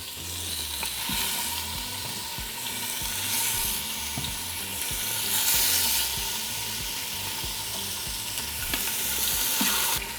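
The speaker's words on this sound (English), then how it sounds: "once hot, we're going to begin to place our ribs facing down." Pork ribs sear face down in hot lard or oil inside an Instant Pot pressure cooker, a loud, steady sizzle and crackle with bursts of spitting and occasional clinks, no voices.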